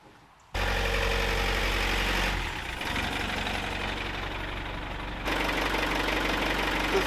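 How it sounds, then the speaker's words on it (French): An engine runs steadily and fairly loud throughout, a low continuous drone that dips briefly around the middle and then swells again, with no talk over it. "Ça c'est un moteur qui tourne."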